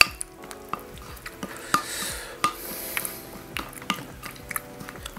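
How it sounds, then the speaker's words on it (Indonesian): A spoon stirs oatmeal topped with dark cappuccino coffee in a bowl, giving a series of light scraping clinks and taps at an irregular rhythm, close and fairly quiet. "Harus diaduk."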